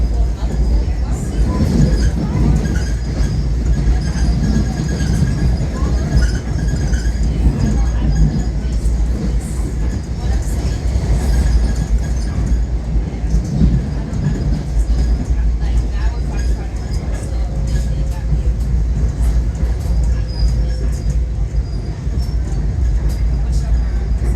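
A Long Island Rail Road train rolls through Sunnyside Yards, giving a loud, steady rumble of wheels and rails with continuous interior car noise throughout.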